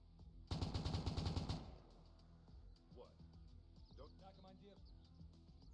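In a sci-fi tactics video game where special forces fight an alien invasion, a short burst of rapid automatic gunfire rattles loudly for about a second, then fades under game sound effects and someone talking.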